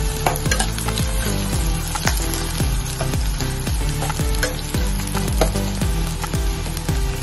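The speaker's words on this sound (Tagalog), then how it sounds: "pinisa ko na yung luya, onion, at garlic" Ginger, onion and garlic sautéing in a pan for tilapia paksiw, a loud, continuous sizzle with repeated utensil scrapes and taps against the pan throughout.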